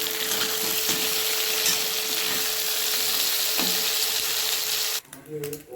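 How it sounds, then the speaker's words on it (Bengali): Fish sizzles loudly and steadily in hot oil in a home kitchen while a fish curry is being made, a constant crackling hiss that stops abruptly near the end, leaving quieter kitchen sounds. "মাছটা ভাজতে দিয়ে দিয়েছি"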